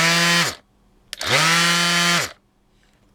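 A DeWalt DCW210 cordless random orbit palm sander with an instant pad brake whines loudly up close, stops sharply, gives a brief click, then runs again for about a second before braking to a quick halt.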